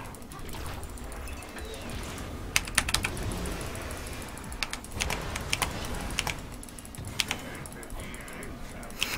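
Rapid keyboard typing during a Heroes of the Storm match: bursts of sharp key clicks and clacks come in irregular clusters, close up and fairly quiet, under faint game sounds and occasional talk.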